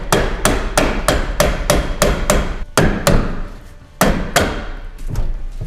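A rubber mallet hits a stuck door on a Ford camper van over and over, giving loud, close, hollow thuds in a fairly steady rhythm with a few short pauses.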